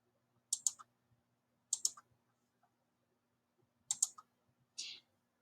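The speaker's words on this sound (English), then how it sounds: "if you just click once, it just selects it" A computer mouse button clicking in quiet, sharp close clicks in pairs and short groups separated by silent gaps, with no talk.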